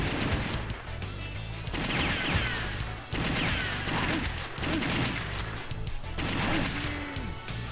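A grenade blows up amid steady arcade gunfire in the light-gun shooter Virtua Cop, dense crashing blasts and rapid shots repeating loudly with game music underneath.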